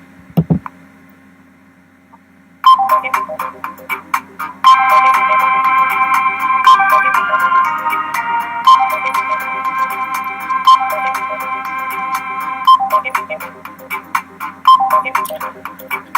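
A custom iPhone ringtone built in GarageBand or Audacity plays back loud and close: bright, repeating electronic chime notes in a steady rhythm, with a denser sustained stretch in the middle, after a brief quiet lead-in.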